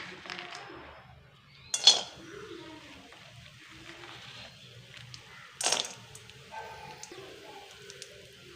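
Nuts stirred in a little ghee in a metal kadai give sparse metallic clinks and scrapes, with two sharper knocks against the pan amid a quiet, low background.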